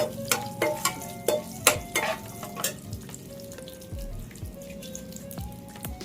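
Chicken frying on a low flame in a pan, soft steady sizzle beneath repeated clinks and scrapes of a spatula stirring, close by with no talking.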